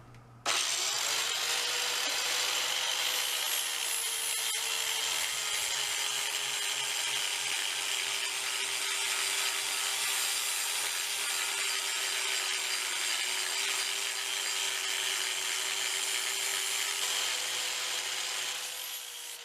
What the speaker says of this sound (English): we're going to try and grind some stuff down here